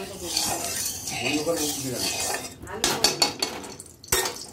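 Pointed gourd pieces dropped into hot oil in a pan for a Bengali posto dish, with metal pan and utensil clatter, stirring and clinks over a steady sizzle, close by.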